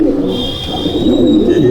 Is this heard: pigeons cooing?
yes